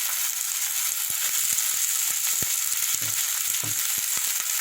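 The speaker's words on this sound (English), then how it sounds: "Put some more onions in. I'm going to stir fry this very briefly" Onions and escallion frying in a pan for a Jamaican eggplant stir fry, a steady bright sizzle with soft clicks and scrapes of stirring throughout, no talk.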